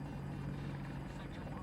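A helicopter in the video game Battlefield 2042 keeps up a low, steady rotor drone at moderate distance, with a voice talking over it.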